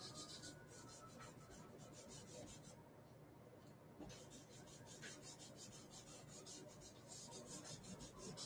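A blending stump rubs across a charcoal sketch at an art fair demonstration, giving faint, close, irregular scratchy strokes that come in short bursts with brief pauses.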